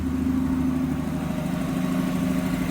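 A 1969 Ford Falcon engine, long parked and just bottle-fed fuel through the carburetor, idles steadily with a constant low rumble, close and loud.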